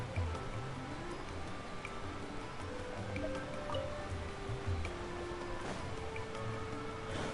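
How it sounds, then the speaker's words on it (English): Water rising in Genshin Impact, heard as a steady wash of dripping and gurgling liquid that runs throughout, with faint game tones drifting over it. "let's raise the water level first and foremost a bit"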